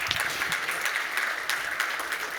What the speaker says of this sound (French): Bravo à vous, on vous applaudit.